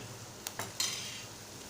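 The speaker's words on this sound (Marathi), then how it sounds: "आता हे मिश्रण एकजूट करून घेऊया" An onion, chilli, salt and turmeric mixture being stirred in a pan, a few sharp spoon scrapes and clinks against the metal over a faint background sizzle, with no talking.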